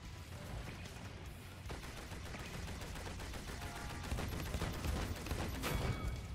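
Gunfire in the Paladins video game rattles in dense, rapid volleys, a steady clatter of shots with heavier bursts near the end, with no speech.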